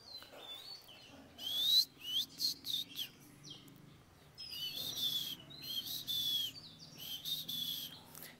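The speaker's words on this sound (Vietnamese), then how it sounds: "Để em đang mở cái tiếng chim nó hót lên rồi." A recorded white-rumped shama song played near a caged bird comes in two bursts of bright, clear whistled phrases and chirps, separated by a short pause, over a low background hum.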